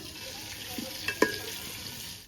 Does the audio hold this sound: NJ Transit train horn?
no